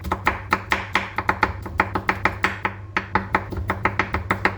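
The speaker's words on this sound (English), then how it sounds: "Finally chopping 2 garlic cloves" Steady, quick knife taps against a board as two garlic cloves are chopped, close and crisp, continuing evenly with a faint hum underneath.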